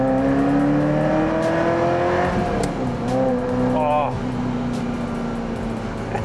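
A Ferrari 348TS with an open-gate manual gearbox accelerates hard in Singapore, its engine note climbing loud and close through several rising sweeps, dipping briefly around a gear change before pulling up again.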